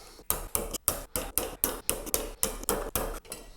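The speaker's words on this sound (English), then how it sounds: "So let's go ahead and punch the holes for the next bolts." A resin 3D printer's FEP film has bolt holes punched through it in a quick series of about a dozen sharp, evenly spaced taps, close and moderately loud, with no talking.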